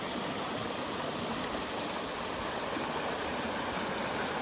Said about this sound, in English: Water's higher, as you can hear from the sound